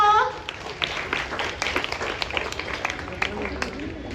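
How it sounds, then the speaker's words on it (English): An audience claps for a prize winner at a summer camp prize distribution in a library, a short burst of scattered, moderately loud hand claps under an announcer's voice. "Clap hands for her."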